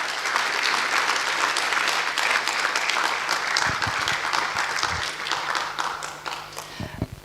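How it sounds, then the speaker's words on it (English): At a law school alumni homecoming and anniversary event, an audience bursts into strong applause that holds steady for several seconds, then thins into scattered final claps. "Can we give the Dean a good round of applause?"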